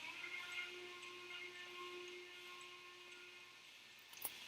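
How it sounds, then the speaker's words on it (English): Steam locomotive hooter whistle from a train simulator game, set on the Allegheny and the Norfolk and Western Y6B locomotives, a steady sustained tone with hissing steam, held evenly and fairly quiet, ending with a brief sharp burst. "here's the second hooter whistle"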